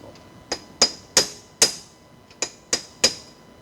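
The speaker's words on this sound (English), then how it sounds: "I hate to keep hammering things" A hammer strikes the pinion shaft on a 1986 Porsche 944 Turbo during assembly. There are seven sharp, close metallic taps at an uneven pace, each with a short ring, and no talking.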